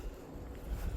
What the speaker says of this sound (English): still pretty windy out